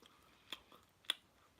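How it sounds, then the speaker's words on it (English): Someone chews Domino's pizza close to the mic, with two distinct crisp crunches about half a second apart over a quiet background. "Let me just finish chewing."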